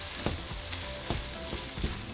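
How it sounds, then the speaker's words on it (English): Flour is stirred into a sizzling pan for burrito filling, making a constant close frying hiss with soft periodic stir strokes and scrapes. No one speaks. "we're going to add our 2 tablespoons of flour. And just mix it."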